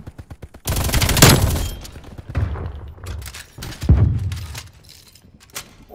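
Rapid gunfire in a first-person shooter video game comes in several loud bursts with rattling shots and thuds, alone and close.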